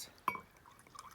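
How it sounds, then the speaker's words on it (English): Homemade elderflower champagne is poured into a glass outdoors in a woodland setting, a brief, faint splash and trickle with a small clink near the start. "Pour myself a glass."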